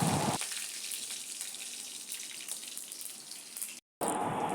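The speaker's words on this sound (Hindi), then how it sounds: "राई डालने के बाद मैं तेल में उसी तड़के में डालूँगी हरी मिर्च" Mustard seeds and green chillies sizzle in hot mustard oil for a tempering, a bright crackling hiss that runs steadily, breaks off for a moment near the end, then resumes.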